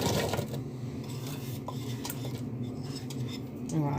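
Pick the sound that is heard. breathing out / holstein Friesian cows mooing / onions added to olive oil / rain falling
onions added to olive oil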